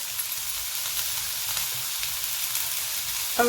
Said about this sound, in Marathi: याच्यात हा हिंग घालते पाव चमचा